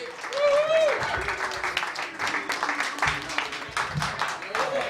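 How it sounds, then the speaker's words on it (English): A comedy club audience applauds and cheers for a comedian, a dense wash of clapping with whoops, and a voice shouting over it at the start. "Everyone give a huge round of applause for Steve Dooley"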